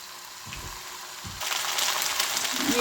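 Chicken pieces frying in a pan over a medium flame, a soft sizzle that suddenly grows louder and brighter halfway through, with a few low knocks early on.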